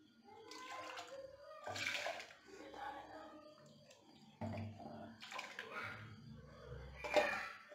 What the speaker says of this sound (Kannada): ಎಷ್ಟು ಬೇಕೋ ಅಷ್ಟು ನೀರು ಹಾಕ್ಕೊಂಡು ರೆಡಿ ಮಾಡ್ಕೋಬೇಕು.